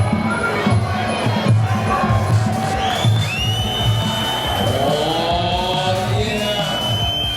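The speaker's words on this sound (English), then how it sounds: "roar of the crowd." A large crowd roars and cheers throughout a kickboxing fight, with dense shouting and rising whoops layered over a constant arena din.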